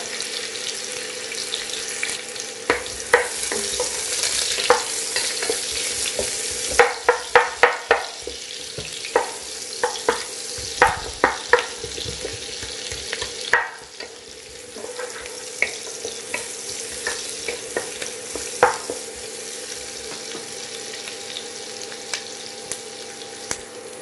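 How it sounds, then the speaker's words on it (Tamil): Onions frying in a pressure cooker with oil and butter, a continuous hiss and sizzle with repeated scraping and stirring clatter from a utensil, close and fairly loud with no talking. "வெங்காயத்தை போட்டு தாளிச்சிடலாம். நீங்கள் டேரெக்டாக ப்ரெஷர் குக்கர்லேயே வதக்கிக்கலாம்."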